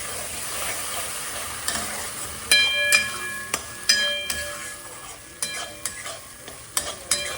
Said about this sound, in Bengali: মশলাটা হালকা কষিয়ে নিয়েছি